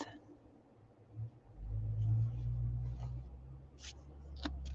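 A truck passing outside, a low rumbling engine swelling in and lingering muffled and distant, with a few faint scratching sounds of coloring pencil on paper nearby.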